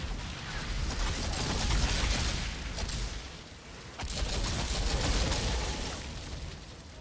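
Dense, sustained gunfire and explosions from the video game Outriders roar in two long bursts with a brief dip between, loud and continuous.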